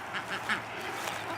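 A small flock of farm ducks quacks in several soft, repeated calls over steady background noise, moderately distant.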